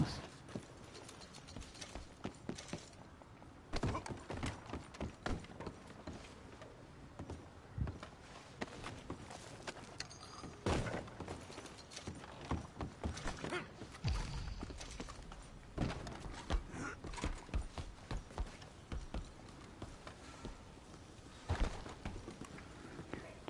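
Horse hooves clip-clop in a steady walking rhythm in Red Dead Redemption 2, close and fairly loud, with occasional game thuds and mechanical clunks mixed in.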